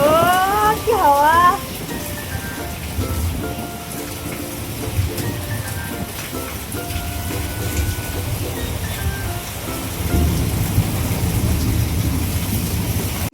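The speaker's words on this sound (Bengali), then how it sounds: "বৃষ্টি হচ্ছে অনেকক্ষণ ধরে, বৃষ্টি হচ্ছে।" Heavy rain pours steadily with low rumbling that suggests thunder, and a voice speaks briefly at the start over the continuous downpour.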